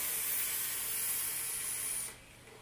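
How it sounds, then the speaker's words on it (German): A long, steady breathy hiss of e-cigarette vapor being exhaled, close and continuous for about two seconds before it cuts off abruptly. "Und darum dampfe ich jetzt nochmal."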